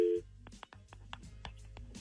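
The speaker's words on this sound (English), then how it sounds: "Here comes the phone call on War of the Roses" A telephone call being placed on a radio show, starting with a brief dial tone and followed by a series of short, sharp clicks and tones, quiet and spaced out.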